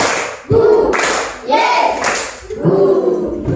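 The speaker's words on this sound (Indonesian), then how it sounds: "Tepuk 1. Tepuk 2. Tepuk 3. Tepuk 1, 2, 3." A school class claps hands together in short rhythmic bursts, three loud groups of claps separated by brief pauses, close and energetic, with a teacher's voice mixed in.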